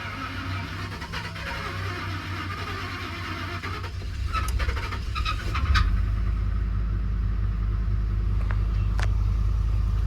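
Ford 5.0 Coyote engine running in an F150, a low steady rumble that grows a bit heavier partway through, with scattered clicks and knocks over the running engine.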